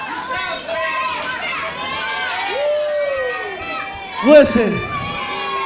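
A wrestling event crowd boos and jeers in a loud, dense, continuous wall of voices, with shouting that swells briefly near the end and a voice speaking over it.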